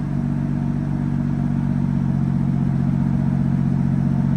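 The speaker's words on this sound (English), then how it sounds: "I can't get enough of the exhaust in this thing." A BMW M2's exhaust drones steadily while driving, a loud, close, continuous low engine rumble with a fairly even tone and no talk over it.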